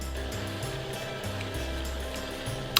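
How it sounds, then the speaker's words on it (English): A budget hot chocolate maker froths a jug of plain water, giving a steady close whirring drone with a low pulsing hum that shifts pitch in cycles, ending on a brief sharp click. "Let's froth some water."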